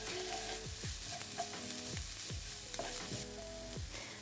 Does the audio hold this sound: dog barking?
no